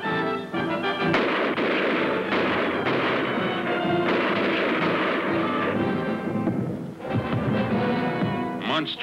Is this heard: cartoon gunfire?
yes